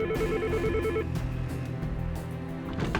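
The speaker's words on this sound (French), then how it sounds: "Oh non! Téléphone!" A telephone rings in a Hell's Kitchen restaurant, its tone pulsing in a rapid repeated pattern for about a second over a steady bed of kitchen noise, then falling away while the background continues.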